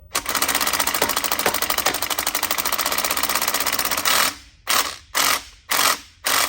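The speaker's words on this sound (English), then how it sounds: "So I'm just giving it enough throttle just to get it clacking." A 730hp Detroit diesel in a truck clacks at light throttle, a loud, fast, steady mechanical rattle close up for about four seconds, then broken into short bursts as the throttle is blipped on and off.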